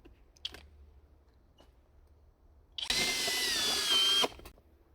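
Cordless hammer drill from DeWalt, Flex or Milwaukee M18 class, run at top speed in turbo mode with no pilot hole, a loud steady whine lasting about a second and a half after a brief click, then cutting off sharply.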